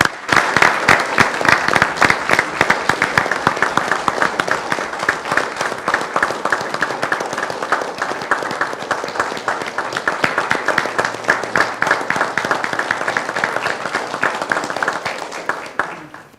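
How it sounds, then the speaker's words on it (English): Audience at a city commission meeting in San Juan gives a big, loud round of applause for veterans, dense rapid clapping sustained throughout before tapering off at the end. "Can we please give them a big round of applause?"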